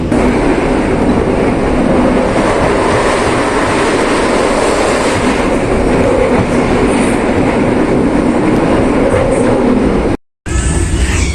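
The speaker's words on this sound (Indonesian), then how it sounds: "kereta api Mutiara Timur tiba di stasiun Banyuwangi Kota" Mutiara Timur passenger train pulling into Banyuwangi Kota station, a loud continuous rumble of wheels and carriages rolling steadily close by, with a short break near the end before the noise resumes.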